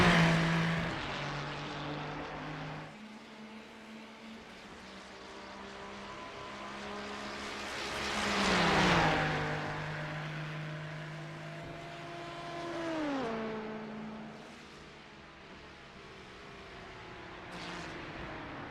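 Race car engines in an iRacing endurance race at Canadian Tire Motorsport Park, with a Ferrari among them, sustained loud engine drones rising and falling in pitch as cars pass and shift, swelling twice as they go by.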